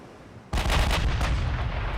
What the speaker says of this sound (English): First time the battleship gets to fire its guns in anger.